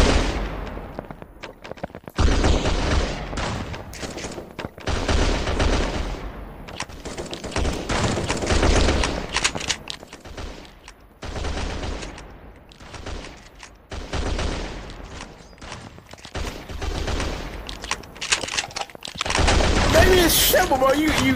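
Rapid, sustained gunfire from the 1v1.LOL mobile shooting game crackles in loud, dense bursts almost without pause, with a voice talking over parts of it.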